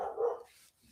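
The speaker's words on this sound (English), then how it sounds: "The dogs are back at it." Dogs barking in a single short, fairly loud burst of barks that fades quickly, with no talking.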